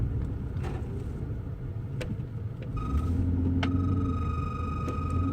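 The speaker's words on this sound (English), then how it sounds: "I got a weird noise in my heater." Inside a 2007 Chevy Tahoe, a steady low engine rumble fills the cabin while a faint, thin tonal whine from the heater appears partway through and holds, with a few brief clicks, no voices.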